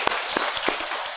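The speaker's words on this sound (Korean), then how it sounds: "오늘 유아 세례 받은 두 가정 우리 축복하는 마음으로 박수하겠습니다" A church congregation claps during Sunday worship to bless two families whose infants were baptized, a short patter of many hands clapping together in the sanctuary, even and moderately loud.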